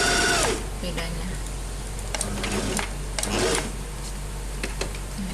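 A Singer 2250 sewing machine runs a zigzag stitch in steady, busy bursts, close and clear, while someone talks over parts of it.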